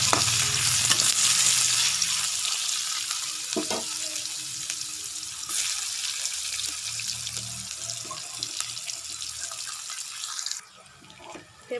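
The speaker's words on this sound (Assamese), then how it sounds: "এই একেখিনি তেলতে মই ইয়াত পিঁয়াজ দিছোঁ।" Onions sizzle in hot oil in a pan, the same oil used earlier for frying, with occasional stirring scrapes. The steady crackle stays loud and close, then quietens near the end.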